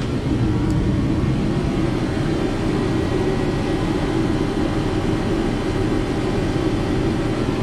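A Nissan being driven, its engine and road noise forming a steady low rumble that holds at an even level from start to finish, with no voices.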